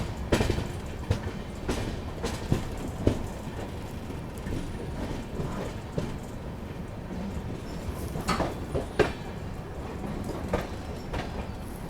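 Jammu Mail passenger train running on rails near Kathua, a steady rumbling clatter with recurring sharp wheel clicks and joints, close and continuous throughout with no voices.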